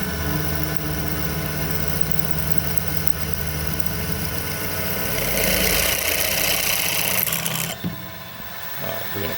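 Steady mechanical whir and rumble of a drill bit boring oval holes into a heavy-duty oil tank, constant and loud throughout, swelling slightly near the end before a sudden drop as the cutting stops.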